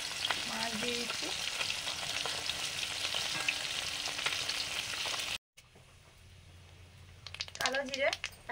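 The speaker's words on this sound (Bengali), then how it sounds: "টক ফুটে গেছে, মাছ দিয়ে দিচ্ছি" Fish being added to boiling tamarind sour curry in a home kitchen, a steady sizzle and bubble with stirring clinks, broken by a brief silence, then quieter bubbling as someone speaks briefly.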